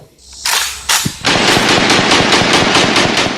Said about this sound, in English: Can I get another gunshot?